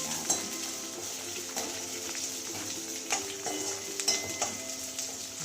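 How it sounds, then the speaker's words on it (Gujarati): Crushed peanuts fry in hot oil for sabudana vada, with a steady close sizzle broken by repeated stirring scrapes and small clinks of a spoon against the pan. "આપણે સિંગદાણા આખા ભંગા ખાંડી નાખેલા છે એને આમાં આપણે જોતા એટલા નાખવાના। તેલમાં થોડા શેકાઈ જાય"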